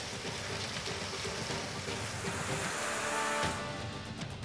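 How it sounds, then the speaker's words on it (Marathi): Heavy pre-monsoon rain pours down in Kolhapur district, a dense, steady hiss at low level with no distinct thunder claps standing out and no talk. "विजांच्या कडकडाटासह मुसळधार पाऊस बरसला"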